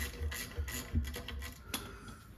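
A socket ratchet works a bolt loose, giving a soft, steady mechanical clicking at close range that holds low and even throughout.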